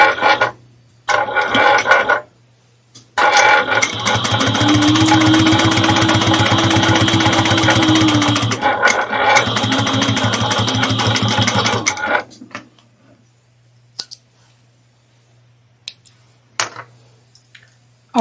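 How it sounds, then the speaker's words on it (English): A sewing machine topstitches a quilted Hortensia barrel bag at an eighth-inch seam, starting with short bursts and then running a steady motor whir for about nine seconds before it stops and quiet handling follows. "I'm going to now top stitch this at 1/8 of an inch."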